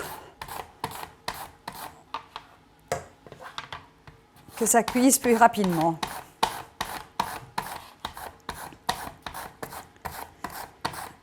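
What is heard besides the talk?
knife cutting courgette into small julienne sticks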